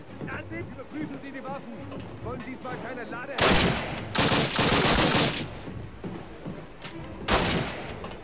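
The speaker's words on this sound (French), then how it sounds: "Je lui tire une rafale de balles" Loud bursts of automatic gunfire in Call of Duty, a video game, blast in several close, punchy volleys after a stretch where someone talks over quieter game sounds.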